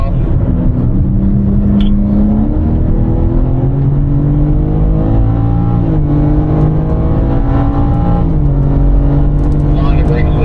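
A BMW M4 powers out of a corner on a desert race circuit, its engine note rising and falling in strong harmonic sweeps, loud and close, with a voice talking over it for much of the time.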